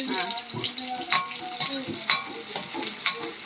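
Onions and green chilies frying in a pan with bay leaf and cloves, a continuous sizzle broken by a regular rhythm of spoon scrapes and clacks against the pan, up close.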